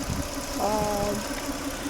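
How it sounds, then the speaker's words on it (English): A Peugeot 406 V6 engine idling after several minutes of running makes a steady, close mechanical hum with a faint rhythmic knock throughout. "So engine has been running now for quite a while."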